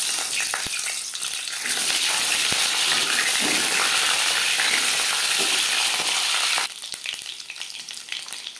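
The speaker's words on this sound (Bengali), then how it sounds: "সরষের তেল গরম করে নেওয়ার পর দিয়ে দেব ডিম।" Eggs sizzle and crackle in hot mustard oil, a loud, steady frying hiss that rises sharply as they hit the pan, then eases into quieter, uneven spitting with no voices.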